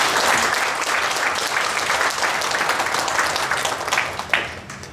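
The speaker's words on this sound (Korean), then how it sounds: "박수 한번 드립니다." A seated audience at a Buddhist forum on national defense applauds a guest being introduced: sustained, dense clapping from many hands, fairly close and even, tapering near the end.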